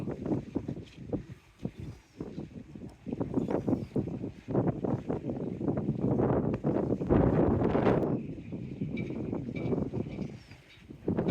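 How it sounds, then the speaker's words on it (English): Strong gusting wind on the Teignmouth coast buffets the microphone continuously, a rough roaring rumble that swells and eases, with no voices. "hopefully I managed to duck most of the wind now"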